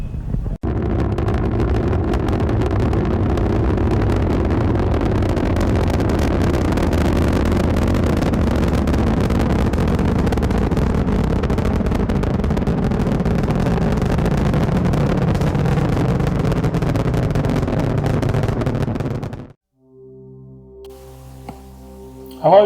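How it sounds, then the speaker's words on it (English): Space Shuttle Discovery climbing after liftoff, a broad, continuous low roar with wind buffeting that holds steady for about twenty seconds before cutting off abruptly. "Americans return to space as Discovery clears the tower"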